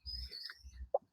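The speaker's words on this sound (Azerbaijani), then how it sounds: "hal-hazırda quşlar oxuyur." Birds singing outdoors, a few light chirps and thin whistled notes at a moderate distance, with one sharper close call near the end over a quiet background.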